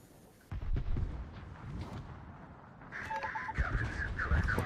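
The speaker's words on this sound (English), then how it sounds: "Let's see if I can one-shot the Kagero with an airstrike." Bomb impacts from an airstrike hitting a Kagero destroyer in a naval combat game: a sudden heavy burst of blasts and rumbling debris, then a further round of explosive hits mixed with chiming game alert tones.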